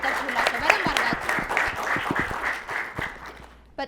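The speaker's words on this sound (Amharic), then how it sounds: "በደንብ አድርጋችሁ አጨብጭቡላቸው።" An audience applauds children on an ETV kids show for the African Children's Day special, a steady wash of clapping throughout with a voice talking over it.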